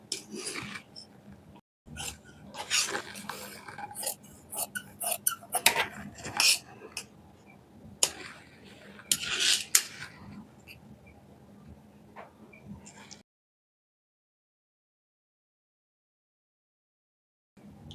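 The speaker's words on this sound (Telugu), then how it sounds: "ఇప్పుడు డ్రా చేసుకున్న విధంగా కటింగ్ చేసుకుందాం" Scissors cut through fabric for a crop top with a lehenga, giving scattered crisp snips and rustling handling noises over roughly thirteen seconds, close and fairly quiet, then silence.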